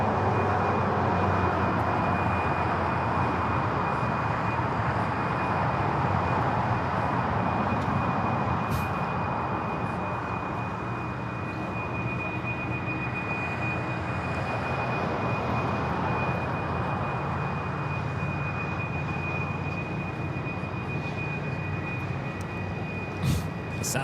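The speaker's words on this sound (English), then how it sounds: "Sound of those GE90s there on taxiway Kilo" GE90 engines on an airliner taxiing along a taxiway at LAX give a loud, steady roar with a constant high whine, sustained throughout and slowly swelling and easing.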